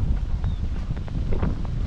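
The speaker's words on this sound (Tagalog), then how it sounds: "Ang lakas ng hangin ah." Steady, blustery wind roars and buffets the microphone throughout, a constant low rumble with faint scattered knocks and rustles in the background, in Taiwan.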